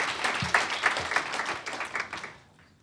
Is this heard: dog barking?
no